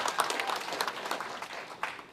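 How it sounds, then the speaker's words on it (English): An audience applauds young Republicans receiving Future of America awards: a brief stretch of steady, moderately loud clapping from a crowd, with a few sharper claps rising out of the mix. "We should give them a round of applause."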